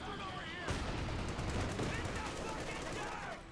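An MG-42 machine gun fires in the video game Company of Heroes 2 in a continuous rapid burst over dense battle noise. It starts abruptly and is loud and close, while other gunfire crackles around it.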